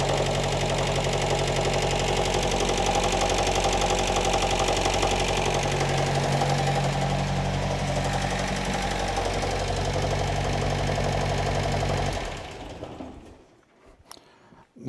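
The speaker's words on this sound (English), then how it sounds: "this thing always did have kind of a loud engine in it" A classic car's loud engine runs steadily with a knocking, rough idle, close and constant for about twelve seconds before cutting off and fading into quiet.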